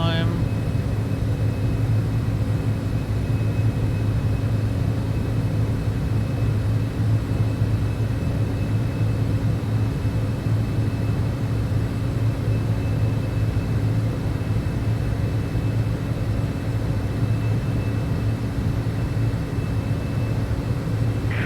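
Steady jet engine drone from a Citation X business jet in Microsoft Flight Simulator 2024, a constant low rumble with a faint high whine throughout, under cockpit talk.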